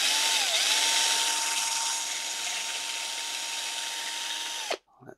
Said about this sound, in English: we'll reverse the drill just to see if we can get any of the crud out of the hole